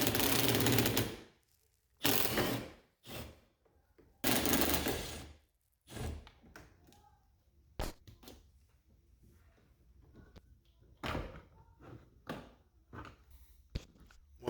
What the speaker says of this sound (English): And then you'll have to use a 7mm socket.